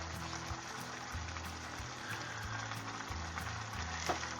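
Ground hamburger frying in a pan with a sprinkle of chili powder, giving off a soft, steady crackling sizzle with a low rumble underneath and no voices.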